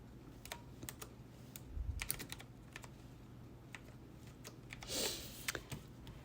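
Scattered computer keyboard keystrokes, sharp and close, typed in short irregular bursts over a steady background hum, with a soft thump and a brief rustle between them.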